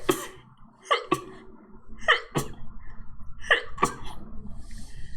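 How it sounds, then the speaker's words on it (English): Several sneezes in quick succession, each a sharp breathy burst preceded by a short inhale, close up, with brief pauses between them. "Oh, now I feel like I'm going to sneeze."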